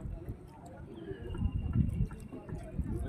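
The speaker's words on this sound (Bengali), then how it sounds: "পাটা একটু ধুয়ে নিচ্ছি গঙ্গা জলে।" Feet being washed in Ganges river water at the riverbank, with soft splashing and dripping under a nearby person talking.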